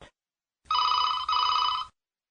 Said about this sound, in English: Truecall now rings Mary's phone.